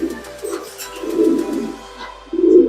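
Pigeons in a breeding loft give soft, repeated low coos, close and steady, with no talking.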